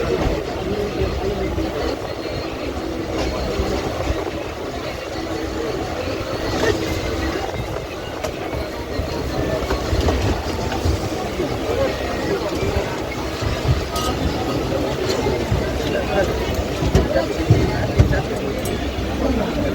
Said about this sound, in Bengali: ট্রেন এখন আমাদের চলেছে বালিগঞ্জ জংশন।